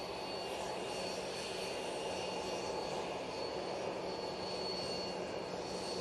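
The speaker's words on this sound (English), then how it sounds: "We've got the Aer Lingus now coming over." Aer Lingus airliner passing overhead at Manchester Airport, a faint, steady distant jet drone with a constant hum, no voices.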